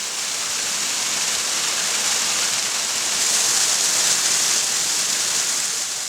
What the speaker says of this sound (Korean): 가파른 협곡과 절벽, 그리고 산의 높이에 비해 높고 웅장한 폭포는 큰 산에서도 쉽게 보기 힘든 풍경입니다